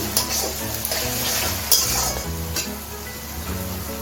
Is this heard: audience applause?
no